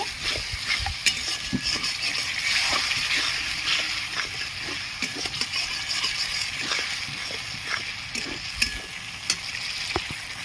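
Green chillies being stirred in a frying pan while cooking potol posto, a pointed gourd and poppy seed dish: a continuous close sizzle with repeated scraping and clacking strokes of the spatula.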